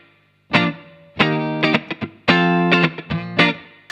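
Electric guitar run through a reverb block on a VP4 multi-effects unit for an 80s tone, playing loud, bright harmonic chords and single notes in short phrases after a brief silence, with a moderate wash of reverb.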